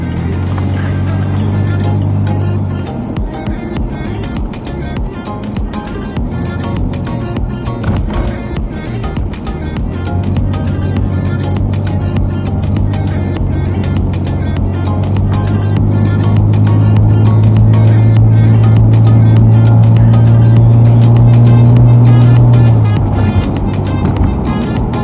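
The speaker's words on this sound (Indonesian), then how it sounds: "kita coba akselerasinya di tol seperti bagaimana" BMW E60 sedan accelerating on a toll road, heard from inside the cabin as a steady engine drone that rises in pitch and loudness over about twenty-five seconds, with road and wind rumble underneath.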